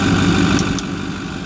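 A 2009 Ford F250 King Ranch with a 6.4 Powerstroke diesel and full exhaust idles steadily with a low, even rumble, heard up close; two brief clicks cut through midway and the level dips slightly toward the end.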